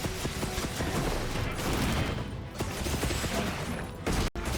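A gunlance full burst in the Monster Hunter Wilds video game sets off a dense, loud barrage of overlapping blasts and mechanical clatter. It runs almost without a break and then cuts out abruptly near the end.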